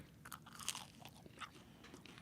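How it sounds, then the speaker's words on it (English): Crisp crunching bites of oven-reheated pizza with barbecue sauce, chewed close to the mic in a short run of brittle crackles with no talk. "You could hear that crunch too because I heated it up in the oven when I reheated it."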